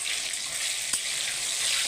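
Eggplant pieces fry in hot oil in a pan, a dense continuous sizzle with a faint stir or clink partway through.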